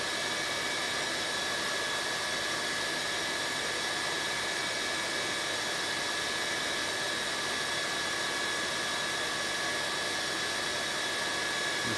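Miele hybrid battery vacuum cleaner running on full mode, a constant whining suction hiss with a steady high-pitched tone, unbroken and close for the whole stretch.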